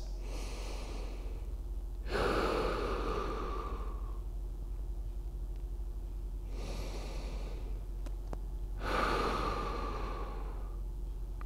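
Heavy breathing while holding a dead bug ab exercise position: three strong, forceful breaths spaced several seconds apart, close-miked over a steady low background hum, with no talking.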